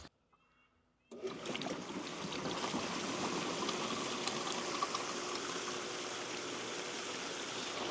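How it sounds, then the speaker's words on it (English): A hot tub's jets switch on after the breaker is thrown, cutting in abruptly from near silence to a steady, loud rush of churning, bubbling water that continues without a break. "now that the water is over all of the jet lines, we can turn the breaker on"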